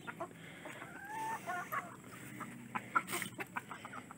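Hens and a rooster cluck softly on their roost inside a chicken coop, scattered short calls and murmurs at low volume against a quiet background.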